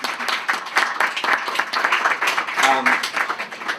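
A conference audience claps steadily throughout, a dense patter of many hands, with a brief voice heard in the middle.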